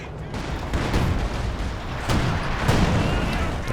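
Big flamethrower bursts roar across a Company of Heroes 2 battlefield as loud, broad whooshing blasts, with a couple of sharper surges amid continuous combat noise.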